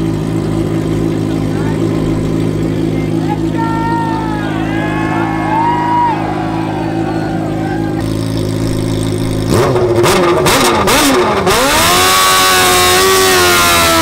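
A drag race car fitted with wheelie bars sits in a loud, steady engine drone, then launches down the track. The engine bursts into a harsher, rising roar.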